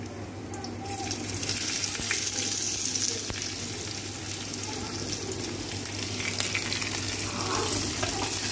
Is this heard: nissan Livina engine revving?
no